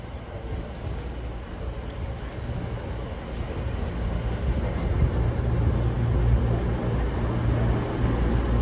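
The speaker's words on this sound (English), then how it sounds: "Here comes the train." A train draws into a Chester-area railway station, a low rumble that builds steadily louder as it approaches, with no talk over it.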